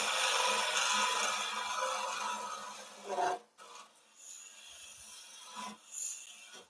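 Skew chisel worked as a negative-rake scraper against spinning wood on a lathe, giving a loud continuous rasping scrape for about three seconds, then quieter short scraping touches with pauses between them and no speech.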